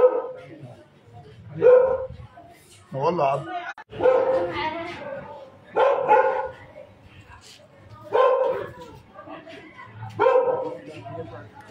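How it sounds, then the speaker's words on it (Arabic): Dogs bark repeatedly at a run-down dwelling in Hadayek El Qobba, several barks and yips in bursts at mid distance, with people talking in between. "كنايه عن صوت الكلاب والقطط اللي موجودين في المكان"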